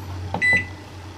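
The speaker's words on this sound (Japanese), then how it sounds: "でこうやってね容器に入れて電子レンジでチンします。" A microwave oven heats food in a container at 600 watts, giving a low steady hum with a short burst of bright electronic beeps partway through, close and fairly quiet.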